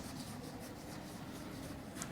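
A pen or pencil scratches and rubs across paper while an answer is written down in an English class, faint continuous scribbling with no voice.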